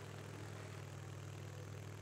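A motorcycle engine idles steadily in the video game Days Gone, a constant low rumbling hum with no talk over it.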